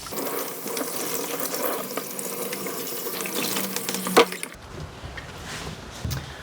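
A small dog being rinsed during grooming, with a steady gush of water spraying and splashing for about four seconds before it cuts off, leaving quieter dripping and faint handling sounds.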